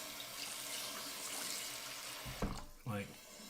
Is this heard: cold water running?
yes